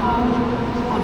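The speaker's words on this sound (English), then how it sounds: "This is the station." Steady rumbling ambience of a Prague train station in the early morning, with a low continuous hum of machinery and crowd noise filling the hall.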